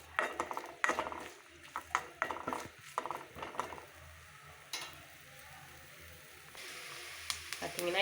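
Finely chopped coconut pieces sizzle softly as they fry in hot oil in a pan, broken up by scrapes and clinks of stirring, with someone talking over the cooking.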